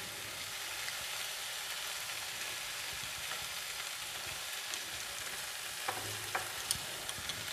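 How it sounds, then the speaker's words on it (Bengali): Spring taro curry with salt and spices is sautéed in a pan, a soft, steady sizzle with occasional faint scraping from stirring, fairly quiet throughout. "ভালো করে কষিয়ে নিতে হবে"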